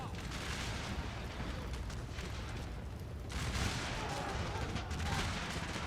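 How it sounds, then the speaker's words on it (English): Massed rifle and artillery fire in the video game Total War, Franco-Prussian War, as troops open up from a forest: a dense, continuous crackle of volleys that swells louder midway. "They're opening up fire from the forest"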